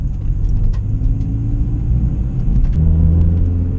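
A Honda Integra Type R barn find drives along with a steady, low engine rumble and drone, close and continuous, with a shift in pitch near the end and a few faint clicks, no talk.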